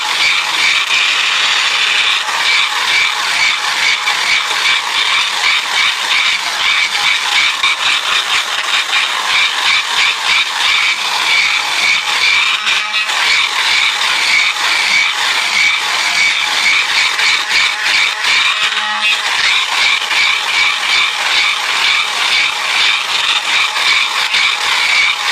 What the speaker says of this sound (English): My little machine sounds like it's struggling.